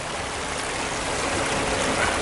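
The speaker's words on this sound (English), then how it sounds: "I just wanted to sort of show this water, and that's the type of water that was heading right towards my camp." Flood water rushes past a camp on Dartmoor in December, a steady close, dense roar of flowing stream water with no voices.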